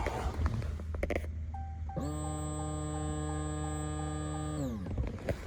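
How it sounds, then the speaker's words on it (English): An upgraded fuel pump on a 5.7/6.4 Hemi primes with a steady electric whine and buzzing hum for about three seconds, starting and stopping abruptly, fairly close over faint background noise. "let me see if you guys can hear the pump."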